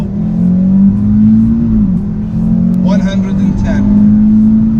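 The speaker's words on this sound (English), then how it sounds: "You put your foot on the brake, you accelerate, you hear the car building up, and you release." An Audi RS3 is held on the brake while its engine builds revs, then launches hard with traction control, giving a loud, steady drone that climbs briefly with a rising whine near the end.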